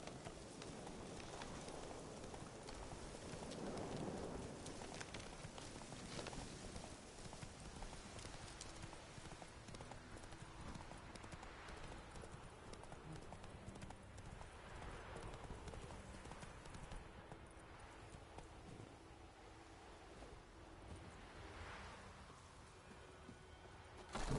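Roach, the horse in The Witcher 3, gallops with a rapid, continuous clip-clop of hooves close by, steady throughout with faint game ambience beneath and no speech.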